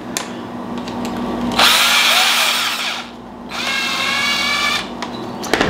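A powered screwdriver removes pieces from lightweight furniture, whirring in two strong bursts of a few seconds each, separated by a brief pause, with small clicks at the end.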